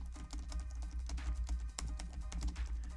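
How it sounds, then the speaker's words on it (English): Rapid, uneven clicking of keys on a computer keyboard, fairly quiet, over a low steady hum. "if I start typing here"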